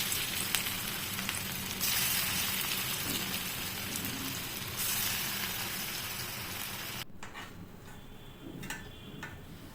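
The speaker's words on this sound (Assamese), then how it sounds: "এয়া মই এতিয়া ফ্ৰাই কৰিব লৈছোঁ, তেলখিনি গৰম হ'ল আৰু দি দিছোঁ ওপৰৰ পৰা" Cabbage and onion pakoras fry in hot oil, giving a loud, steady crackling sizzle that runs throughout and turns softer and thinner near the end.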